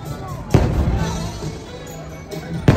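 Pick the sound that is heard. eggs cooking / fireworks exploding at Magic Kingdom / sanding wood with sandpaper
fireworks exploding at Magic Kingdom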